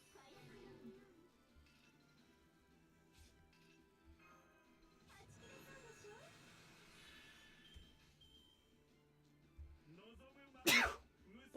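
A single sharp sneeze bursts out near the end, loud and close, following a stretch of quiet game music and soft background sounds.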